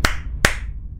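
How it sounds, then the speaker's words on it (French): Two sharp hand claps, evenly spaced less than half a second apart, close and crisp with quick decays and no voices. "Moi, je les applaudis"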